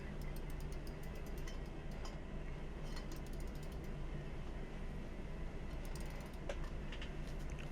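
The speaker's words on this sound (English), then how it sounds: "I had to throw a wrench on the other side." A wrench works a bolt on a Dana 44 axle from a Wagoneer, giving rapid repeated ratcheting clicks in bursts over a faint, steady mechanical hum.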